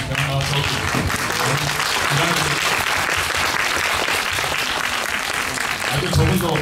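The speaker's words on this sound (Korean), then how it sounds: "박수 좀 부탁드립니다" Audience applause at a Q&A for the film Missing 2 at the Bucheon Fantastic Film Festival, loud steady clapping from a crowded hall heard under a person speaking over it throughout.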